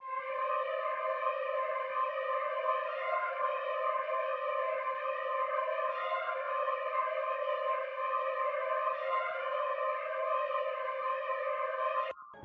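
A sustained, layered synth pad from a Tesla preset in FL Studio, with bright stacked harmonics, holds steady, slowly shimmering and swelling, then cuts off abruptly at the end.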